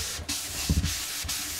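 A cloth dampened with white spirit is rubbed over sanded wood on a 1953 Regentone Multi 99 record player cabinet, giving soft, steady, close-up scrubbing strokes with a slightly louder pass midway.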